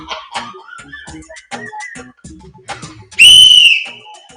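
A loud, sharp whistle blast rings out for a segment on a radio show, following a stretch of talk and holding steady for about half a second before fading.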